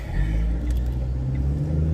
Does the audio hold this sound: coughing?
no